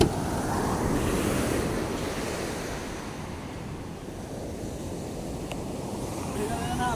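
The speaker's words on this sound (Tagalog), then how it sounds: "Yan, may alon pa" Sea waves surge and wash against a fishing boat out at sea, a broad low rushing swell that peaks early and eases, with wind buffeting the microphone.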